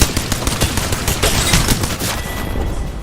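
Far Cry 4 game combat rattles with dense, loud gunfire, rapid overlapping shots and heavy bursts that fill the whole stretch without pause.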